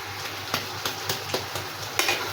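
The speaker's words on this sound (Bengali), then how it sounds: "এর মধ্যে আমি এখন মাছের একটা মাথা দেব।" A pre-fried fish head being stirred into sizzling masala in a pan, with a steady fry hiss and a series of distinct spoon scrapes and knocks against the pan at irregular intervals.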